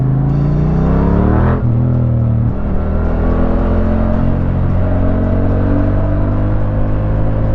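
A Yamaha MT-07 motorcycle engine revs loudly and close, with a throbbing drone that climbs in pitch, drops sharply after about a second and a half, then builds again steadily. No one speaks.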